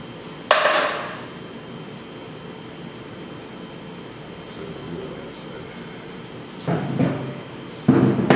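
A part is hammered into a Polaris 700/800 engine case: one sharp strike, a quiet stretch, then two more metallic blows near the end, close and distinct over low background hum.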